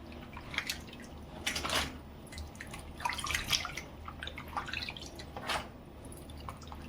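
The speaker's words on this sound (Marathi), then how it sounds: "आता हे बटाटे आपल्याला धुवायचे आहेत स्वच्छ दोन तीन पाण्याने" Water splashes and drips as potatoes are rinsed and stirred by hand, with irregular sloshing bursts close by.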